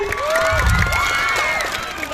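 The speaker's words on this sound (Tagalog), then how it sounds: "wala po bang palakpakan dyan?" A pageant audience at a gay beauty contest responds with a mix of clapping and excited shouts and high-pitched cheers, sustained and lively throughout.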